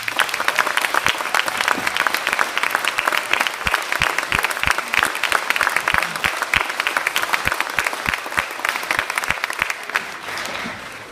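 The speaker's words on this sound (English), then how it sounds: "I think we should give the students a round of applause" A room full of people at a school award ceremony applauds, steady dense clapping that holds for several seconds and then starts to taper off near the end.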